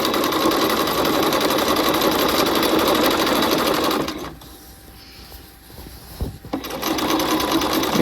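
A sewing machine stitches canvas into a half-scale jacket, a fast steady close-up rattle running for about four seconds, then stopping briefly with a small clunk before resuming.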